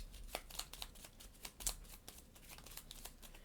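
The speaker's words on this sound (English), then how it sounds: "we're going to shuffle their deck up" A deck of cards being shuffled during a solo session of the board game Scholars of the South Tigris, a quiet, close run of soft riffling flicks and taps with no talk.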